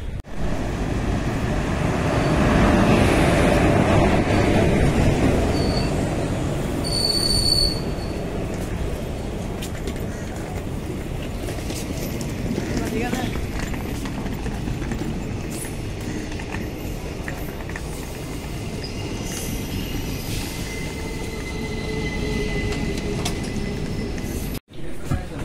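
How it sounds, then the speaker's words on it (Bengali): The Kanchanjunga Express pulls into a railway station with a loud, steady rumble and clatter that fills the whole stretch, with a few brief higher squeals partway through. "ট্রেন আসছে কাঞ্চনজঙ্ঘা এক্সপ্রেস।"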